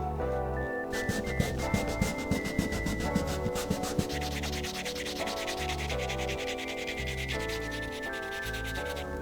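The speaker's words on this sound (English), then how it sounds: "Now I'm going to bevel and burnish the tops of the pockets" The top edges of leather cardholder pockets are beveled and burnished, a close, steady rubbing and sanding friction with a high squeaky tone running throughout, no voices.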